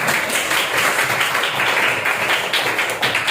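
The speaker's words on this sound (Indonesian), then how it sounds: "Tepuk tangan semuanya." A group claps together in a dense, sustained burst of applause at a children's health training session at a community health centre, lively and close, with no voices standing out.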